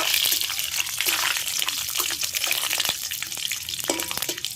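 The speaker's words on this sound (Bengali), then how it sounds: "প্রথমে তেজপাতা দেব, দুটো শুকনো লঙ্কা, তারপরে 5 ফোড়ন, তারপরে একটু নাড়াচাড়া করে নেব" Bay leaf, two dried chillies and panch phoron frying in hot oil for a vegetarian dish, a steady close hiss of sizzling with faint scraping of stirring throughout.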